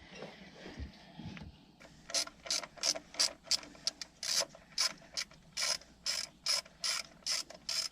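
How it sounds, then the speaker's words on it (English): A ratchet clicks in quick, rhythmic bursts while undoing a bolt on a Mercruiser mechanical fuel pump, preceded by faint handling noise, close and clear. "Go ahead and undo the bolt up here so we can lift it up out of there."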